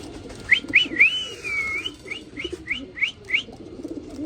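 A male pigeon of a fancy breed calls to its mate during pairing, giving a series of about eight short, sharp whistle-like notes with a longer drawn-out one early on, close and clear over faint background noise.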